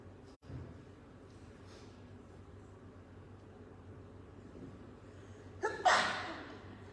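In a hushed church during a silent moment of an evening service, a single sudden sneeze breaks out near the end, fairly close and loud against the quiet room hum.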